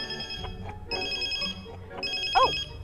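A phone rings inside a car, its bright electronic ringtone repeating in bursts, fairly close and clear, with no talk over it.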